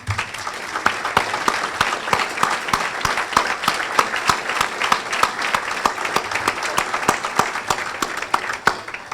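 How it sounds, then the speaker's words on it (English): Sustained audience applause at a small business of the year awards ceremony, dense steady clapping from a large crowd lasting throughout, loud and close with no pauses. "let's give them a round of applause."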